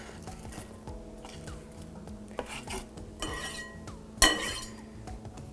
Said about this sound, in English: And I'm going to put those in the bowl.